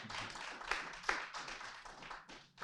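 An audience at a human rights talk gives a second round of applause, a faint, sparse patter of claps with a few sharper hits, fading out toward the end.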